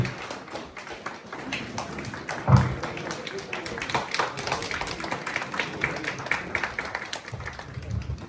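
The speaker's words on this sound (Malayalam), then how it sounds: "എല്ലാവരും കയ്യടി" An audience claps at a poster release during the inauguration of an anti-tobacco and anti-drug campaign in Ernakulam; brisk, dense clapping fills the clip, with voices heard in the room.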